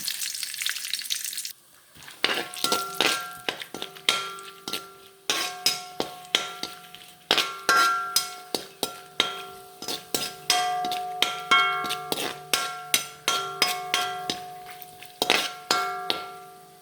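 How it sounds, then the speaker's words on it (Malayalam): Cashew nuts fry in a pan for mutton biryani, after onions have been fried, giving a steady close sizzle with many sharp, rhythmic metallic clanks and taps of a spoon against the pan all the way through. "കുറച്ച് കശുവണ്ടി നമുക്ക് മൊരിക്കാം, വറുത്തെടുക്കാം."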